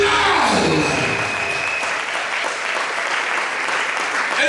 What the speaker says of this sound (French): je veux que tu commences à te réjouir en acclamant Jésus